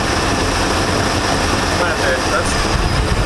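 A 1999 Chaparral 1930 SS boat's inboard motor runs steadily with a loud, constant broadband rumble and drone, with voices talking over it.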